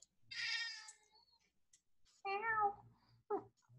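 A cat meows three times at close range in a quiet room, a long drawn-out cry followed by two shorter ones, with near silence between them.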